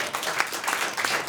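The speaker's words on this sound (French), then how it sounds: "On peut t'applaudir, mon cher Ignace." Studio audience applauding on a French political talk show, a short burst of dense, steady clapping filling the whole moment at moderate volume.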